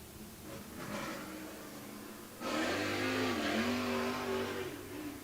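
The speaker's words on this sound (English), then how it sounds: "These 305 sprint cars coming across the timing line for the first time" A field of 305 sprint cars at Coles County Speedway's weekly dirt-track racing drones past the timing line, engines rising and swelling in a fairly distant pass-by roar.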